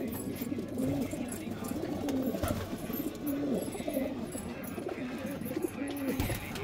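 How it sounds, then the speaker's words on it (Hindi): Black pigeons coo repeatedly in a coop at a bird sale in Amroha, soft rolling coos recurring about every second over dense background bustle and chirps. "सब काले चांदने कबूतर है"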